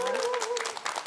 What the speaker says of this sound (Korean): 여러분 다시 한번 큰 박수